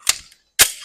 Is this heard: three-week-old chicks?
no